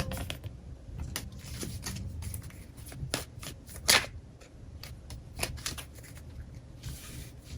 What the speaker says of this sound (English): I'm gonna get one more oracle card and 3 tarot cards, 3 tarot decks out of here